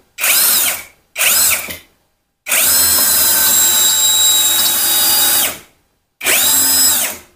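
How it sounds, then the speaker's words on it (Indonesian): A brushless power drill with three speed modes whirs in short bursts: two brief spins, a long steady run of several seconds, then one more burst, loud and close. "Saya akan coba bor"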